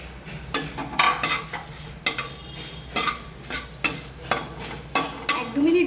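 Dried chilli, fenugreek and bay leaf fry in a tablespoon of oil in a kadai for raw mango chutney, with a steady close sizzle under repeated rhythmic scraping strokes of a stirring spoon.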